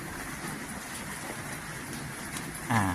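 Steady, faint rain falls outdoors while lemon tree potting soil is being mixed, a soft continuous patter with a brief louder bump near the end, no talk.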